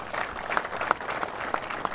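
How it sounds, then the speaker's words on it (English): An audience at the Dodgers' annual team gathering at the Jackie Robinson statue applauds, a brief, steady burst of clapping with sharp individual claps standing out, no voices. "Let's give them a round of applause."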